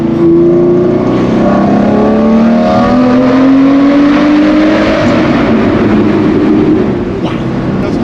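Lamborghini Murcielago with a six-speed gated manual, its engine droning loud and continuous while driving through a tunnel, the pitch climbing steadily as it pulls, with no talking.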